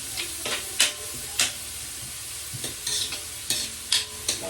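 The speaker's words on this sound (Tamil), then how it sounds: "இதை வந்து கிளறுவோம் இது நல்லா கிளறிடணும்" Tempering spices, fennel seeds among them, sizzling in hot oil in a pan while a spoon stirs them, for Batticaloa-style rice flour puttu; a steady close frying hiss broken by several sharp scraping stirs, with no talking.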